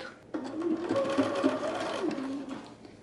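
A sewing machine stitches along a diagonally placed sleeve near a cuff slit, running steadily with a continuous whirring hum for about three seconds after a brief quiet start.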